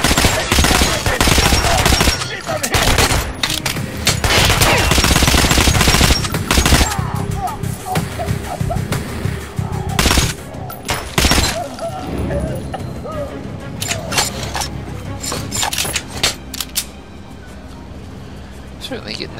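Loud bursts of automatic gunfire with shattering impacts in the video game Metro: Last Light, heaviest early then thinning to sharp scattered shots, with a voice speaking in between.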